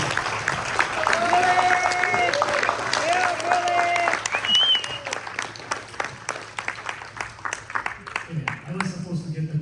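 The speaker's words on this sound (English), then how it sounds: "please give him a round of applause" Audience applause at a product development talk, broad clapping rising then thinning into scattered claps, mixed with voices and a background hum.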